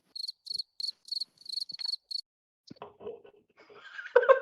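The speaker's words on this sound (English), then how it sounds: "Not the crickets." Crickets chirping in eight short, evenly spaced bursts, clear and fairly close, as a sound effect; the chirping stops and is followed by a few soft clicks and rustling noises.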